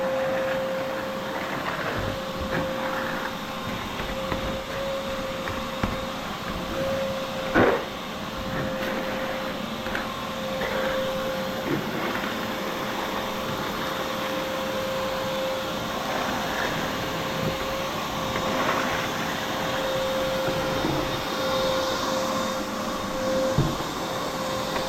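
A wet vacuum runs steadily with a droning motor hum and a constant whine, sucking up dirt and water while thawing out a car trunk, with occasional sharper slurps and knocks across the long, unbroken run.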